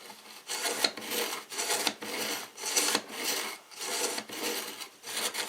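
A kitchen knife drawn through a knife sharpener in a steady rhythm of about six close, gritty rasping strokes, each under a second with short gaps between, and no talking.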